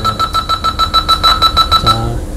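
A driving test course signal beeps in a rapid, loud electronic pulse, about a dozen evenly spaced beeps in quick succession. It then stops abruptly, leaving a low hum.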